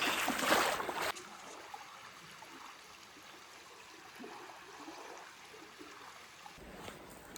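Aravaipa River flowing through its desert canyon in winter, a soft steady trickle and babble of shallow water, close but quiet, after a brief louder burst of handling noise at the start.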